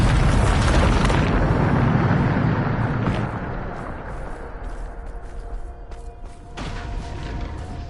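A Bombarda spell explodes in Hogwarts Legacy on PS5 with a loud, close, rumbling boom that fades into a crackling, debris-like tail. A few sharp hits follow.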